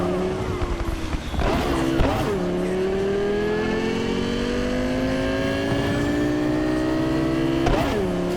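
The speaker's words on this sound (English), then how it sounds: "cars in the game now have pops and bangs" Sports car in the video game Cyberpunk 2077, its engine droning and revving steadily with a few sharp exhaust pops and bangs cracking over it, loud and close.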